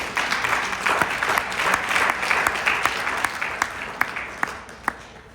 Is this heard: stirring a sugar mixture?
no